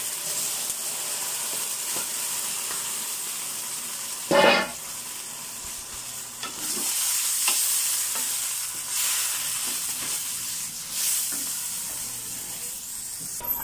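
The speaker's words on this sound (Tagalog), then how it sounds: "At ilalagay na natin yung ating minarinate na pork liver." Marinated pork liver frying in a hot pan, a steady loud sizzle with hissing steam and occasional stirring scrapes, close and continuous without speech.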